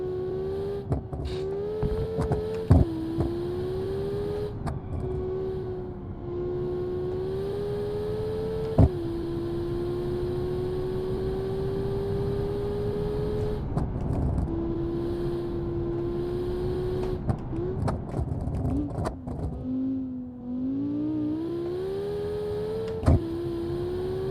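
A 5-cylinder race car engine in BeamNG pulls through a lap, a steady nasal drone that rises and falls with each gear, broken by sharp shift cuts and occasional pops, with no talking.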